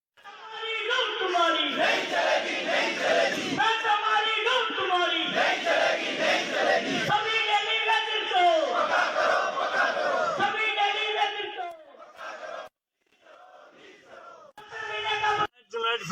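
A crowd of protesting daily-wage workers of the PHE Employees United Front chants loudly in unison, rhythmic slogans rising and repeating for several seconds before breaking into scattered, shorter shouts.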